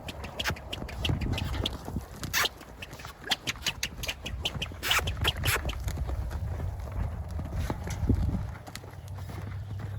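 Hooves thud in an irregular rhythm as a horse lopes around a small round pen, with scuffing on the ground and faint outdoor noise throughout.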